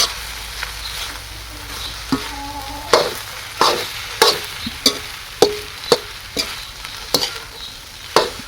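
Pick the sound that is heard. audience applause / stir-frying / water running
stir-frying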